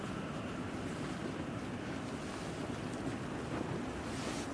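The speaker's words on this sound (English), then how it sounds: "That's kind of windy." Gusty wind buffets the microphone at exposed Manchester Airport, a steady loud roar with rumbling low-end gusts throughout and no voices.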